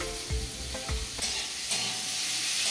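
Onion paste is added to potatoes frying in a pan and stirred, giving a constant sizzle broken by a few sharp scraping knocks of the spoon, quiet and with no voices.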